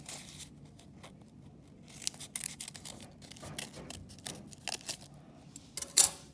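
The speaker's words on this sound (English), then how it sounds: "I'm going to cut out a leaf shape" Scissors snip through folded paper to cut a leaf shape, producing a series of close, crisp irregular clicks and crunches with quiet gaps between cuts.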